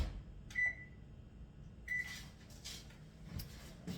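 Oven control panel beeping as the temperature is set to 350 degrees for baking berry-filled muffins: two short, clear electronic beeps about a second and a half apart, with kitchen handling noise around them.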